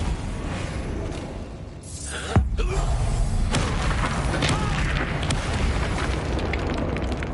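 In the video game Hogwarts Legacy, an Incendio fire spell goes off with a sharp blast that swells into a loud, sustained roar of flame and rumble lasting several seconds.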